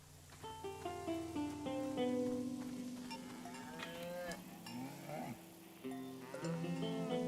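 Cows in a video game moo in a steady chorus of overlapping, drawn-out lows and bleats with clanking cowbells, fairly close and quiet, with no talking.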